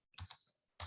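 A computer keyboard is typed on in a few quick, close keystrokes, with soft clicks in short bursts and no talking.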